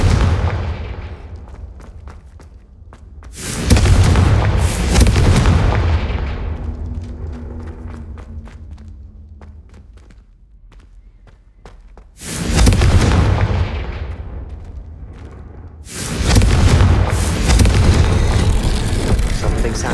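Blasting spell explosions from the video game Hogwarts Legacy: four loud, booming bursts in two pairs, each rolling off into a long rumbling decay with debris-like crackle between them.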